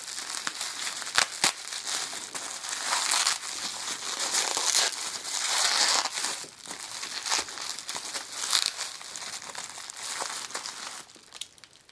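Plastic packaging crinkles and crackles almost without pause as Bakugan BakuTech toys and cards are pulled out, with a few sharp clicks and tearing rustles up close.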